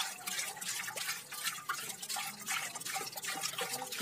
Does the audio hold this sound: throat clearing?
no